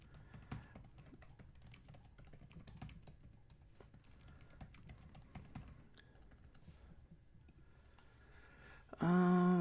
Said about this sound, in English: just typing a note here.